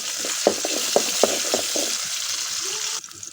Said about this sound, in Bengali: পরিমাণ মতন পেঁয়াজ দিয়ে দিলি, দিয়ে এখন লাড়ি দিই